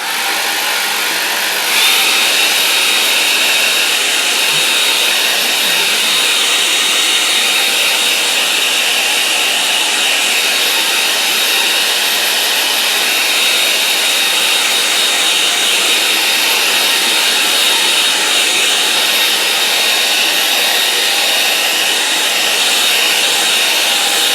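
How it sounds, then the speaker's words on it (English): A hairdryer blows loudly and steadily the whole time, a constant high-pitched whooshing roar with no pauses. "A hairdryer."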